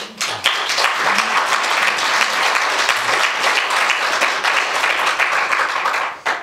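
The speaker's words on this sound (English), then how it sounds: "I would like to ask you for an applause to welcome them." An audience at a panel debate applauds to welcome the panelists, a loud, even wash of many hands clapping that holds steady for several seconds and then tapers off abruptly.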